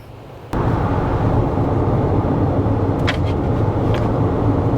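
A 2024 Kia EV9 electric SUV drives along with a steady low road and tire rumble, starting abruptly after a short quiet moment, with faint brief squeaks near the end and no talk.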